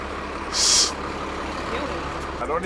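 A large bus pulls up amid rumbling engine noise, with a sharp burst of air-brake hiss near the start and steady road and idle noise after it. Nearby voices can be heard.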